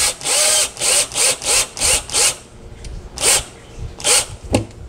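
Power drill driving screws without a pilot hole to mount undermount sink clips beneath a granite countertop, sounding as a series of short close whirring bursts, about a dozen in quick succession with brief pauses between.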